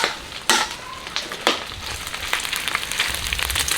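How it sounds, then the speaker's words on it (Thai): Pork rinds with fat being stir-fried in a wok, rendering oil, with a constant crackling sizzle broken by a few sharp scraping strokes of the spatula near the start, close and moderately loud. "ต้องคอยผัดดูเรื่อย ๆนะครับ อย่าให้เขาติดกระทะ อย่าให้แห้ง ต้องสลับกันไว้ก้นกระทะ"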